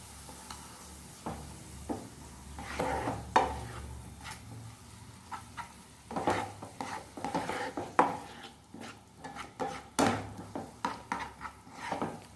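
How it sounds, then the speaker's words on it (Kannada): Chicken fried rice with soy, chilli and tomato chilli sauces stirred in a pan: irregular scraping and clinking of a spoon against the pan under a soft sizzle, close and moderately loud with no talking. "ಸ್ವಲ್ಪ ಚಿಲ್ಲಿ, ಟೊಮೆಟೊ ಚಿಲ್ಲಿ ಸಾಸ್ ಹಾಕಿ ಮಿಕ್ಸ್ ಮಾಡಿ."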